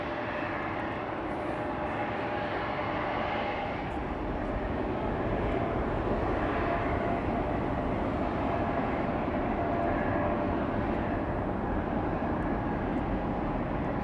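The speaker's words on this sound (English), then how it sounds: "Austrian flight 312 to Vienna, A320, 17 years old" Austrian Airlines Airbus A320, registration OE-LXC, 17 years old, departing Amsterdam Schiphol for Vienna: a steady, broad jet engine roar holds without a break throughout, swelling slightly louder partway through, with no voices.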